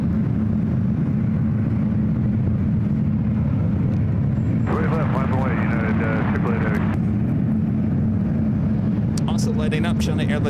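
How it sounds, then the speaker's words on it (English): A China Airlines Boeing 777 freighter cargo jet takes off at SFO, a steady, heavy low engine roar lasting the whole stretch, with live commentary talking over it in places. "Also lighting up, China Airlines cargo flight 5346 heading to Atlanta. It's a 777 freighter."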